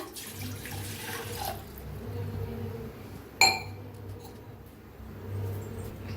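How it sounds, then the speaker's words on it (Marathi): Water poured from a glass into a pan on a gas stove, a soft steady trickle over low kitchen hum, with one sharp clink of glass partway through. "त्याच्यात एक गलास बघा एक गलास घेतलंय पाणी ओतूया"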